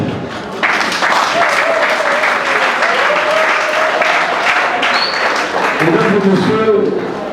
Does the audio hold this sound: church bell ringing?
no